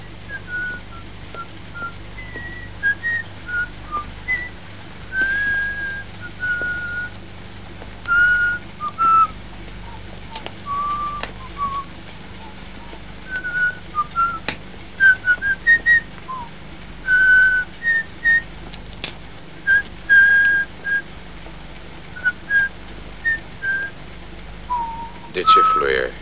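A person whistles short, melodic phrases, intermittent and fairly clear, over a low background hum, with some voices in the background.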